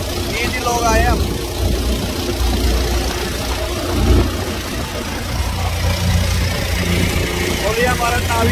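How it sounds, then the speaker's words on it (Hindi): A motor boat engine chugs steadily and loudly throughout the ride on Loktak Lake, Manipur, a continuous low rumble with people talking over it. "ये पता नहीं जनरेटर की आवाज मेरी आवाज कैमरे में आ रही है कि नहीं है"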